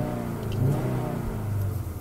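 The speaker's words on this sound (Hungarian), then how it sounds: "Olyan jó hangja van ennek a motornak." A 1992 Audi 80 quattro 2.3E with its five-cylinder engine revs, a close, steady low-pitched drone with a slight rise and fall in pitch.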